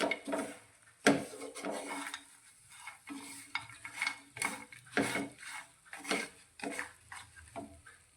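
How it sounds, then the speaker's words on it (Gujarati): Roasted spices are stirred in a hot pan as they cool, with a spoon scraping the metal in irregular strokes and faint sizzling in the gaps. The sound is close but fairly quiet. "આ રીતે થોડી વાર માટે હલાવતા રહીશું, જેથી નીચે પેન ગરમ છે એટલે મસાલા આપણા દાજી ના જાય"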